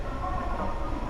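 A Nishitetsu Omuta line train stands at a station platform in Tenjin, Fukuoka, giving off a steady low rumble and hum for a brief moment.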